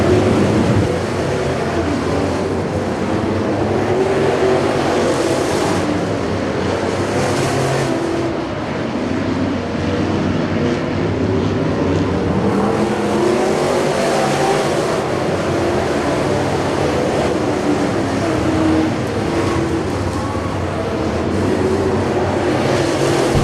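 Race cars, including the 8 car, roar around a dirt track in the late laps of a race, with a continuous loud engine drone that swells and fades as cars pass close by.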